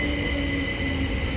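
A five-coach Class 377 passenger train on the Dorking to London Victoria service passes a station. It makes a steady, loud rumble with a sustained tonal whine throughout and no speech.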